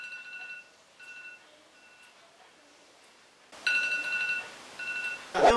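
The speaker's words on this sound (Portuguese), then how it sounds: "Vou pôr o despertador 7 horas da manhã." A morning alarm clock rings in repeated bursts of bright beeping, faint at first with pauses between groups, then suddenly much louder and more insistent toward the end.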